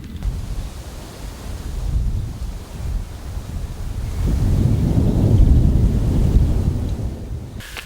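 Storm approaching a castle with the first rain and gusting wind: a continuous low roaring wind rumble buffeting the microphone, growing louder toward the middle and then easing slightly, with no talking.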